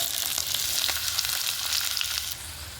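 Chopped onions fry in oil in a pan for a spiced tamarind curry, giving a steady, dense sizzle with faint crackles, close and continuous, and no voices.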